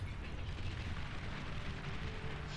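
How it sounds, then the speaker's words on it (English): Bombing run explosions in the video game Beyond All Reason, a dense continuous rumble of overlapping booms and blasts that holds steady and loud throughout with no talk. "Powerful bombing run coming in."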